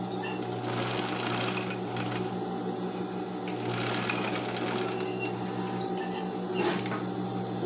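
A sewing machine stitches elastic into a ballet costume with tutu, whirring steadily and close up in bursts, with short slowdowns between runs of stitching.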